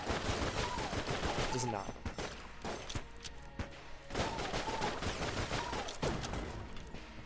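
Rapid bursts of gunfire from the video game Enter the Gungeon crackle in clustered volleys with brief pauses, mixed with game effects while someone talks briefly.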